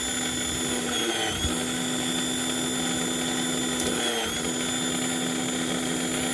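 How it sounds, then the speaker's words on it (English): An electric wire stripping machine runs steadily while stripping a heavy cable, giving a loud, continuous motorized whine with a strong hum. Two brief dips and surges around the cable feed break the otherwise unbroken drone. "Watch how fast this thing strips cables."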